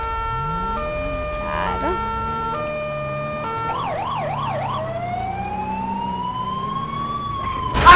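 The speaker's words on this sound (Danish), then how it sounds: "Jeg kan se, der kommer udrykningskøretøj." An emergency vehicle's siren passes nearby, cycling through two-tone blasts, then a wavering wail and a long rising sweep over road noise, with brief talk in the clip.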